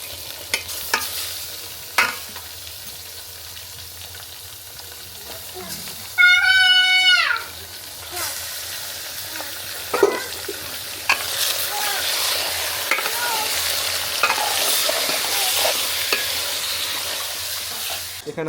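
Meat fries in a pan with ginger-garlic paste and spices for biryani. A steady sizzle runs under repeated stirring and scraping, a short high wavering cry briefly cuts through, and voices talk at times.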